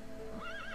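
A brief whinny from a white horse in a 3D wuxia martial-arts video game, a single rising and wavering neigh under a steady background tone, fairly quiet and lasting under a second.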